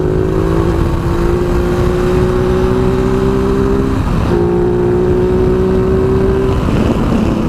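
A Ducati Multistrada 950 motorcycle engine runs loud and close, a steady deep growl with a rising tone that drops briefly for a gear change before climbing again, alone without talk.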